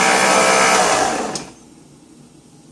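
A Hamilton Beach stand mixer whirs loudly as it works bread dough, then winds down and cuts off partway through, leaving a faint hush.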